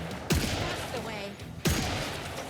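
Two heavy gunshots in the video game Killing Floor III, spaced over a second apart, each a sharp loud crack with a decaying boom over a constant game backdrop.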